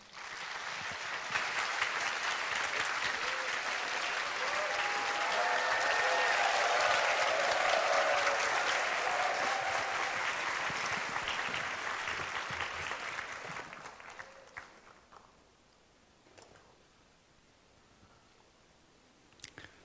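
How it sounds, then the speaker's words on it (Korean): A church congregation gives steady, full applause for about fifteen seconds, welcoming their senior pastor to the front. The clapping swells and then fades to scattered claps and quiet. "우리 사랑하고 존경하는 마음으로 우리 박수로 모시겠습니다."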